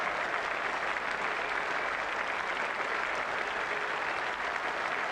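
A cricket crowd applauds Brian Lara of the West Indies passing 150 runs, a dense, steady wash of clapping held at an even level throughout, distant and uninterrupted.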